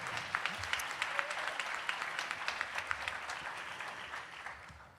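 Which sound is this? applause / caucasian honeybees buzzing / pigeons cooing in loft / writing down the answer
applause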